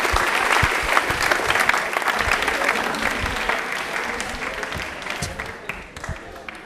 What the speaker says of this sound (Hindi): एक बार जोरदार ताली हो जाए प्लीज